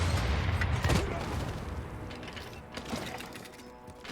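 Ranged unit volleys from a Civilization VI battle: a cluster of booming, crackling gunfire-like shots bursts near the start, then fades into a rumbling battle wash with a couple of softer later impacts.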